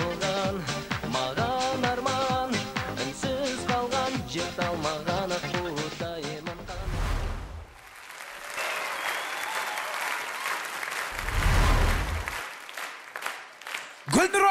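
Loud sustained applause from a studio audience at a cover show erupts as a singer's performance ends, the music fading while clapping continues steadily alone for several seconds.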